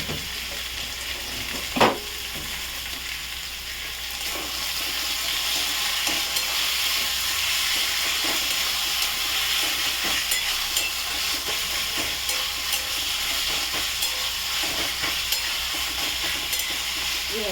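Tomatoes frying in a pan of mutton curry give a steady close sizzle with stirring scrapes, plus one sharp clank early on. The cooking noise carries on unbroken, with no talk.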